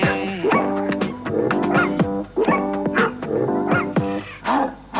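A dog barks and yelps repeatedly in quick, uneven bursts, loud and close, with high whining tones between the barks and no speech over them.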